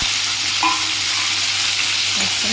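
Green chilies and onions fry in oil in a pan with cumin and a bay leaf. Dense, continuous close-up sizzling with soft stirring sounds runs throughout at an even loudness.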